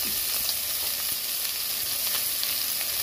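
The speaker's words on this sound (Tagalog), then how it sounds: "I-add natin ang onion garlic." Onion and garlic sautéing in a pan, giving a steady, even hissing sizzle with faint crackles throughout, close by.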